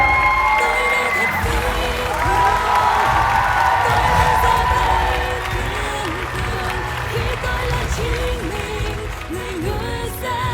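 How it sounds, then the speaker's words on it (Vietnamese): Studio audience at a Vietnamese television talent show applauds and cheers for a seven-year-old contestant, loud crowd clapping and shouting over backing music, strongest early and settling into a steady roar. "Một tràng pháo tay cho Thế Anh."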